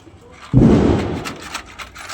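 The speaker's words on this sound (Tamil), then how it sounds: "பட்டாசு வெடிக்க போறியா?" A Diwali firecracker bursts with a sharp, loud bang, then rings and rumbles away over a couple of seconds, with faint crackling afterward.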